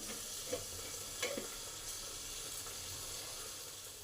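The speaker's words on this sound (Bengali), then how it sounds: "এবার চাপা দিয়ে পাঁচ মিনিট রেখে দেবো সমস্ত সবজিগুলো ভাজা হবে আর সেদ্ধ হবে" Mixed vegetables frying and steaming in a covered pan for a fish curry, giving a steady, close sizzle with a couple of faint taps, and no voices.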